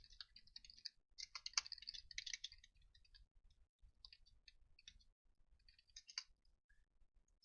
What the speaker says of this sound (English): I'm just typing in a message.